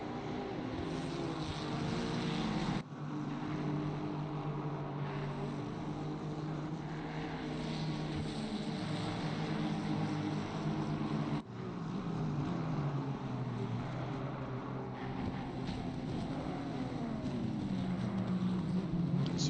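Racing car engines in a Carrera Cup sim racing game, a dense continuous drone of several engines in a tight pack with droning, shifting pitch and brief dips, steady and fairly loud throughout.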